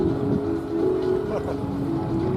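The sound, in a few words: MiG-29 Fulcrum jet with Klimov engines flying past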